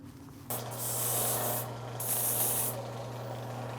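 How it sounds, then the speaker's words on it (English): Abrasive grinding of a rifle's rubber recoil pad against a 3-inch-wide 80-grit sanding wheel, a steady close hiss and rasp starting after a moment, with a brief dip in the middle before the grinding resumes over a constant motor hum. "I'm going to switch over to the next system, which is a 3-inch wide Scott Murray wheel, and I'll start with about an 80 grit."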